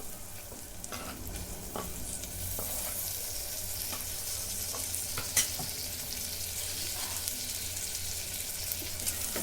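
Slit green chillies and tomato sautéing in a pan for spiced moth-bean rice: a continuous close sizzle broken by scraping and stirring strokes, with no talking.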